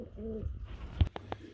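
Spanish pigeons cooing at close range in a pigeon sale setting, with a short throaty coo, a pause, then a few low rolling coos over faint background noise.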